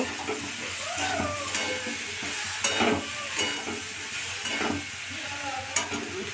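Spices with chilli powder being fried as kosha in a pan before banana stem goes in: a continuous close sizzle and hiss with slow, recurring spatula stirs and scrapes, heard alone.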